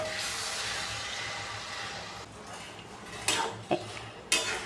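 Raw mangoes tipped into a frying pan of garlic and dried chillies for pickle, a steady hiss with a few sharp metallic clanks of utensil on pan near the end.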